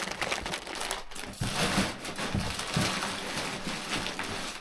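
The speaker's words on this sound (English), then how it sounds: "So again, just crumble a lot up, throw it on top." Packing paper crumpled by hand into a moving box of kitchen glasses and dishes, with a steady close crinkling and rustling that runs the whole time and carries a few louder crunches.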